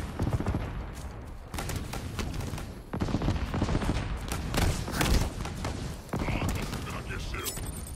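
Rapid gunfire bursts in the video game Halo Infinite, dense repeated shots and thuds filling the whole stretch at steady loudness, with game effects layered over them.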